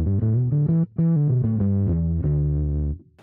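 Bass guitar with a clean tone and the tone knob off playing a short run of sustained notes, close and loud with no talk.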